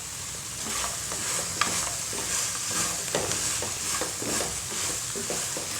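Coriander leaves and chili are stirred into pasta frying in oil for Pasta 65, with a steady sizzle and repeated scraping stir strokes close by.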